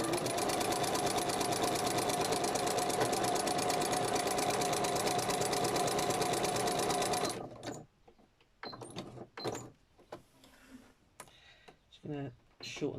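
A domestic sewing machine stitching elastic onto a journal cover runs at a steady fast whirring, loud and continuous for about seven seconds, then stops abruptly, leaving quiet handling clicks and brief bits of talk.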